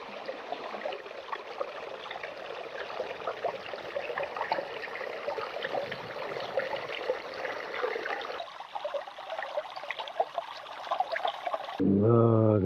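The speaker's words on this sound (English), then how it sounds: "you might hear the very gentle babbling of the creek" Gentle babbling creek in a hardwood forest along the Ottawa River route, a soft continuous trickle of water running steadily and fairly faint, heard alone until a voice cuts in right at the end.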